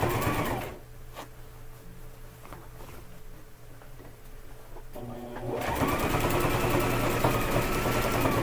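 A sewing machine back stitching through a quilted casserole carrier with thick batting, first a short burst of rapid stitching, then a quiet pause, then a longer steady run of close, buzzing stitches.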